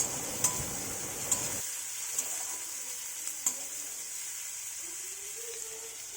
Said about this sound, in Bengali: এখানে গরম মশলা ফোড়ন দিয়ে পেঁয়াজ দিয়ে দিয়েছি